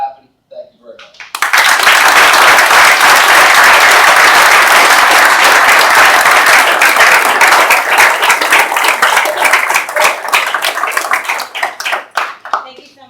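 Loud, sustained applause fills a hall after a speech by a governor, dense clapping from a large audience that goes on for about ten seconds before tapering off, with brief talk at the start.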